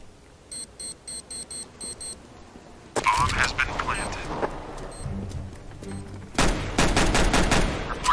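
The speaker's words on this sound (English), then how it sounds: "So it's just a pistol with 32 shots, as far as I can tell." Pistol fire in Counter-Strike: Global Offensive, starting with a row of short electronic beeps, then loud bursts of rapid gunshots in two heavy clusters, close and dominant.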